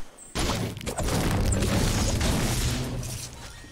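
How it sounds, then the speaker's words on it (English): Gunfire in a video game, a burst of loud booming shots and crashing impacts that starts abruptly and continues as a dense, sustained barrage. "It's gonna be gunfire."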